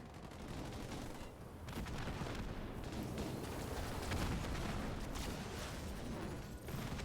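A suicide grunt explosion goes off in Halo Wars 2 amid a continuous din of battle gunfire and blasts, a dense, steady wash of combat noise with no single standout bang.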